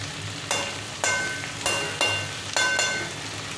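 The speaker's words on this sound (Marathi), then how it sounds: "परत परतून घ्यायचं आलं चांगल्या प्रकारे।" Crushed ginger sautéing in hot oil for paneer chilli, a steady close sizzle broken by about six sharp stirring scrapes spaced roughly half a second apart, with no voices.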